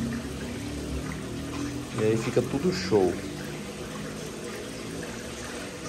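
An aquarium water circulator pump churns and swirls water in a fish tank, a steady low wash running throughout, briefly under a man's speech midway.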